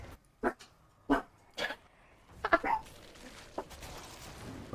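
A dog barks in short separate bursts at another dog, several sharp yelps spread unevenly over a few seconds against a quiet room.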